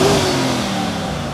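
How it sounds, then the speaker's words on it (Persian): A 2023 Bentley Continental GTC engine revs through its exhaust in one short, loud burst, close up and heard alone, its roar easing slightly as it settles. "صدای اگزوزش هم خیلی خفنه"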